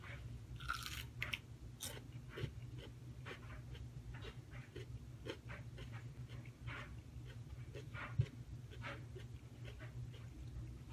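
Someone bites into a brown jalapeno pepper and chews it, with soft, close crunches and mouth sounds that stay quiet and irregular over a low steady background hum.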